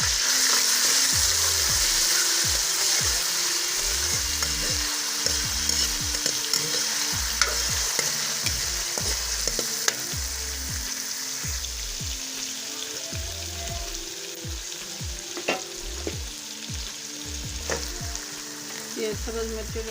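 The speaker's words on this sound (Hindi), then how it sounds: "ये लहसुन अदरक का पेस्ट डाल दिया" Garlic ginger paste fries in a hot pan with a constant loud sizzle, broken by regular scraping stirs throughout, and no one speaks.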